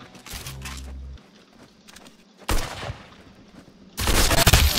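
Gunfire from the video game Arsenal: a rapid burst of shots, then a sharp single blast and another loud sustained volley, close and punchy, with no talk over them.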